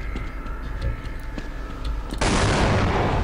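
Gunfire in the video game Half-Life, heavy booming shots echoing over a steady rumbling background, ending in a sudden loud sustained burst of noise.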